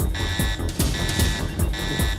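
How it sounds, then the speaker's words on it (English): An alarm blares in the Mortal Kombat: Defenders of the Realm cartoon, a loud electronic buzzing tone pulsing in repeated on-off bursts over heavy low rumble. "Unfortunately, the alarm sounds again."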